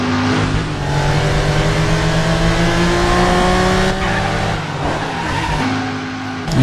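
A car engine revs hard and tyres squeal in the driving video game Driver San Francisco, a loud continuous roar with shifting pitch and a brief drop near the end.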